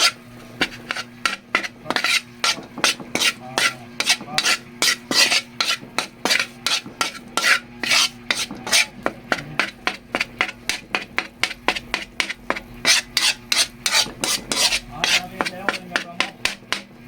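Rapid, steady scraping and clanking of a utensil against a metal pan, loud and continuous, with a constant hum underneath.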